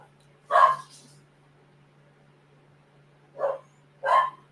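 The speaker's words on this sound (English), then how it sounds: "one of my doggies is barking at something" A dog barks three times at close range: one sharp bark, a pause of nearly three seconds, then two more barks in quick succession, with a faint steady hum beneath.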